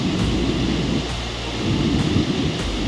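Heavy rain falls in a thunderstorm in Mudigere, a dense, steady roar of downpour with rumbling thunder underneath, loud and continuous with no voices.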